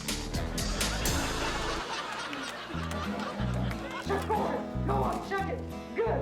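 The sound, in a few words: dog vocalizing a sound like "aw"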